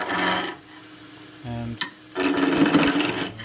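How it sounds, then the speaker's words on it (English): A skew chisel cuts a square wooden spindle blank spinning on a lathe, giving loud raspy bursts that stop briefly and resume, with a short thump between them. "I'm going to be using a skew chisel."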